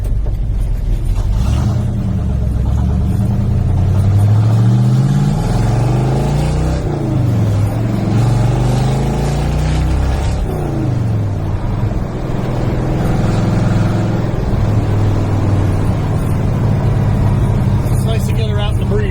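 A 1955 car on the road with a relocated battery, its engine a loud close rumble rising and falling through gear changes, with someone talking over it throughout.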